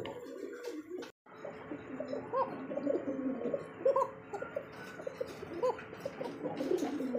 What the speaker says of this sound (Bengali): এটা হচ্ছে ককা কবুতর, গোবিন্দ ককা